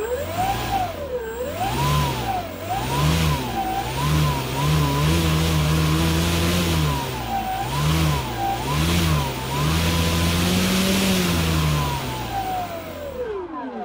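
In a workshop, an RC model's electric motor whines as it spins up and down in repeated wavering surges, then winds down at the end.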